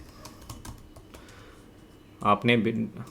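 Clicking keys on a computer keyboard while a domain name is entered, soft taps at first under quiet talk, then a louder cluster of rapid keystrokes near the end.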